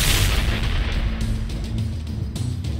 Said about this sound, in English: That must be a Calvarian cannon